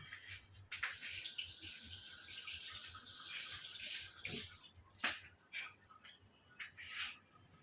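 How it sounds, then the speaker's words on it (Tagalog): Tap water running over a mango as it is washed by hand, a faint steady stream with splashes and brief surges as the fruit is turned under the flow. "hugasan muna natin itong mangga"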